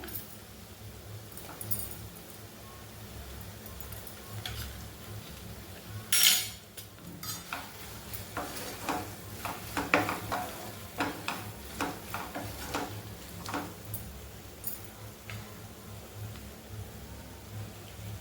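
Green chilies go into a pan to fry for paneer kaju masala curry. A faint, steady hiss runs throughout, with scattered metallic clinks and scrapes of a utensil against the pan and one sharper clatter partway through.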